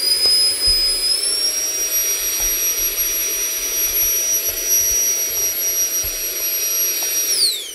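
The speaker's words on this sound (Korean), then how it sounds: "청소를 하면서 흡입을 이렇게 할 수 있죠" A Nitecore handheld vacuum sucks dust off a camera with a steady high-pitched motor whine that rises in pitch about a second in, holds, then winds down at the end, with faint tapping along the way.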